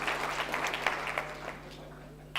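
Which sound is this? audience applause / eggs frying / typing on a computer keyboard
audience applause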